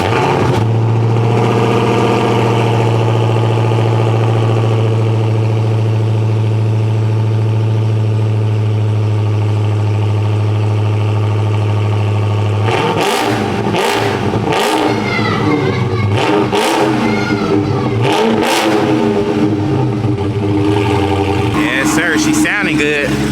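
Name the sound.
Dodge Hellcat car engine starting, idling and revving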